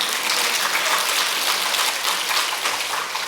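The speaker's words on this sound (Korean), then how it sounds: "저 뒤에는 왜 박수를 안 치는데요?" A church congregation applauds during a Sunday worship service, a dense and sustained wash of many hands clapping at close range that stays even throughout, with no voices.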